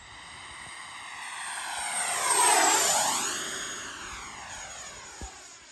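FMS Integral 80mm electric ducted-fan RC jet plane making a fly-by with flaps up, its whine rising as it approaches, peaking overhead with a clear Doppler sweep, then fading as it passes, heard from the ground at moderate distance.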